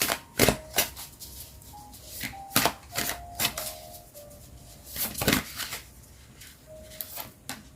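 Tarot cards being shuffled by hand in quick bursts of crisp riffles and slaps, close and clear, separated by short pauses and a few faint clicks.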